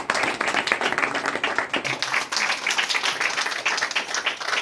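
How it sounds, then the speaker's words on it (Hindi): Lively audience clapping at a women's empowerment sewing-centre event in India, dense and steady with rhythmic pulses, fairly close and filling the whole few seconds without talk. "भाग्यवती यादव जी के लिए एक बार जोरदार तालियां हो जाए"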